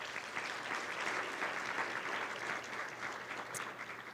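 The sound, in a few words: audience applause at a community luncheon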